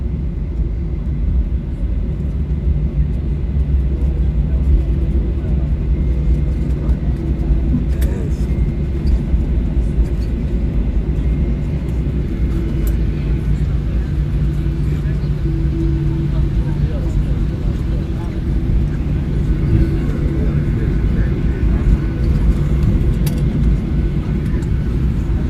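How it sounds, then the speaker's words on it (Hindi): A Turkish Airlines airliner taxis at Istanbul Airport after landing, a steady low engine rumble and whine heard from inside the cabin, continuous and fairly loud throughout. "ये जी लैंड कर गया हमारा जहाज़ इस्तांबुल एयरपोर्ट में।"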